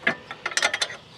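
Wheel nut on a 2002–2011 Chevy Aveo front wheel being broken loose with a leverage bar: a quick series of sharp metallic clicks and ratcheting snaps over about a second, close and fairly loud, with no talking.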